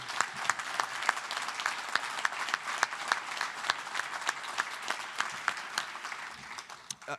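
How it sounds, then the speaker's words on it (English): Applause from the audience at a medal presentation ceremony honouring the staff and behind-the-scenes workers, a steady patter of many hands clapping with sharp individual claps throughout for about seven seconds, fading slightly at the end. "I would like a round of applause, please, for the staff and the people behind the scenes that have made this happen"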